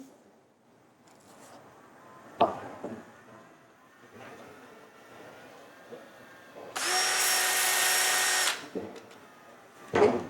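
Sanding a wooden bottle stopper spinning on a woodturning lathe with 180-grit abrasive, a loud bright whir lasting about two seconds mid-clip, with quieter workshop knocks and handling around it.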